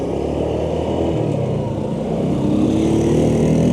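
A motorcycle engine drones steadily at cruising speed leaving Cartagena, loud and close, with a slight rise in pitch toward the end.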